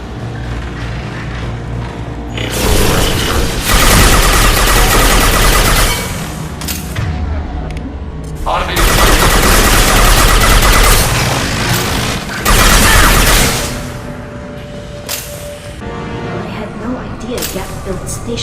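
Turret gunfire in a Mass Effect 2 firefight on a huge Geth station, coming as two long loud bursts of dense rapid shooting with booms and crashes, with quieter mechanical rumble and game noise between them.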